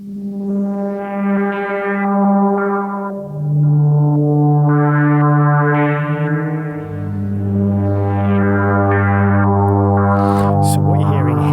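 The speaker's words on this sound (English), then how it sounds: "Pad 2 Model D version." Sustained synth pad run through a Behringer Model D analog synthesizer used as an external processor, a loud, buzzy held chord shifting down through three bass notes with slowly swelling brightness, playing alone.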